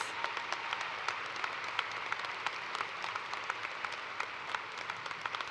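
An audience applauds baccalaureate nursing graduates at a college convocation ceremony, a dense, even wash of many hands clapping that holds steady the whole time.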